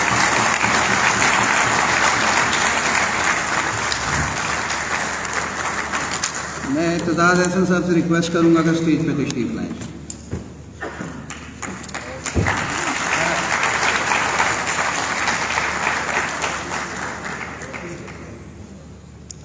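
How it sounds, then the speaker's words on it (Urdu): Crowd applause fills a lawyers' conference hall in Lahore, fading while someone speaks into a microphone, then swelling again into long, steady clapping. "ذرا تالیاں بجا کے ان کا استقبال ہونا چاہیے"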